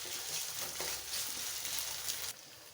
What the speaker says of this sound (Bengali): দিয়ে মশলাটাকে ভালোভাবে কষিয়ে নেব